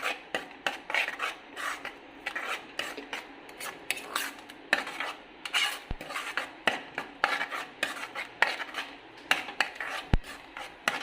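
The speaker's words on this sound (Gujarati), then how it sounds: "આવી રીતે આપણે એને થોડી મીડિયમ ફ્લેમ ઉપર હલાવશું." A spoon scrapes and stirs a thick chikoo and makhana barfi mixture with fresh cream in a pan over medium flame, giving close, rhythmic rasping strokes repeated about every half second, with no talking.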